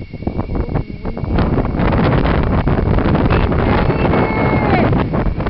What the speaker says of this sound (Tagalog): You would hear the sound of the wind.